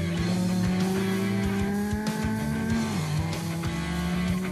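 A Peugeot 205 GTi sports car driven hard, with a loud, continuous engine drone whose pitch holds and then dips briefly as it shifts, heard up close and unbroken.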